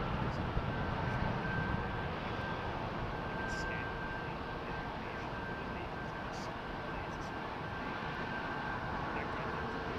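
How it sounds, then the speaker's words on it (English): A Qatar Airways Boeing 777 on its takeoff roll at Toronto Pearson airport, heard as a steady, broad, distant engine roar that holds evenly throughout with no distinct peaks. "Qatar 777 on the roll"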